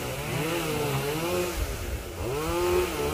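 A chainsaw cuts into a golden oak tree beside a fence, its engine revving and bogging in a loud, continuous snarl that dips briefly midway before climbing again, close by and without talk.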